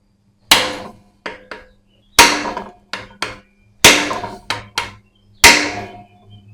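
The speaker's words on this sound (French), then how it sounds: "j'ai sorti un peu la massette quand même, hein, plus que le petit marteau." Sledgehammer blows on an impact screwdriver against a Honda CB 350 engine: three groups of sharp metallic strikes, a heavy hit followed by lighter follow-up taps, loud and close in a quiet room.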